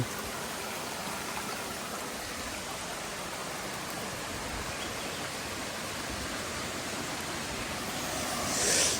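Steady broadband rush of flowing stream water, continuous and fairly close, with no voices.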